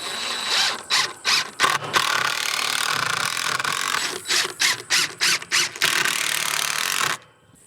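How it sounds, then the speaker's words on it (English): Screws are driven at an angle into a wooden 2x4 frame for an outdoor quail enclosure: a close power driver whirs in a series of short, rapid bursts with ratcheting clicks and wood creaks, then stops abruptly. "I'm going to put my screws at an angle so that they go down into that 4x4 base"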